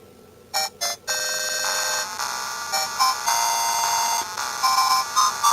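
Double Dragon game audio running on a PSP emulator: a bright, beeping electronic soundtrack with choppy bursts at the start, then sustained chiptune tones and repeated blips, fairly loud over a faint background hum.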